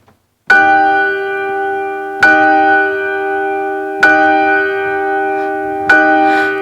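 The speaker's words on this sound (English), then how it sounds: "The bell struck 12." A large bell strikes loud and near, four heavy rings heard here spaced about two seconds apart, each long resonant tone ringing on into the next stroke with no voices.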